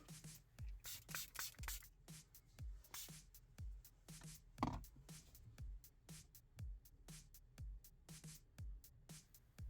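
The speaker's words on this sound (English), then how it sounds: "Again, we'll spray the front too." Repeated short hissing sprays of water from a spray bottle onto a car's touchscreen, mostly evenly spaced, close and quiet, with faint handling noise in between.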